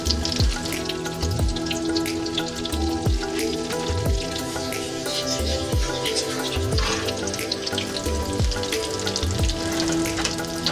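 Homemade spicy fish cakes fry in a frying pan, giving a steady, loud sizzle with dense crackling spatter and occasional sharper pops that runs continuously, with no voices over it.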